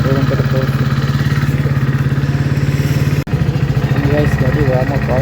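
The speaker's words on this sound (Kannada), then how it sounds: "ಗಾಡಿ ವಾರ್ಮಪ್ ಆಗುತ್ತೆ" Motorcycle engine idling while warming up after being started, a steady, close, loud chugging putter with a brief cut midway, over someone talking.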